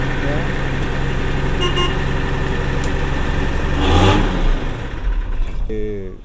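A 1964 Mercedes-Benz LP-321 truck's mid-mounted Mercedes-Benz diesel idles with a low, steady hum and a brief rise in revs partway through, fairly quiet and close, heard alone.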